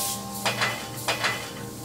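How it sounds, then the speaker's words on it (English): Mirepoix sautéing in a hot pan, a steady close sizzle broken by two pairs of brisk stirring scrapes, moderately loud with no voices. "caramelize the mirepoix first"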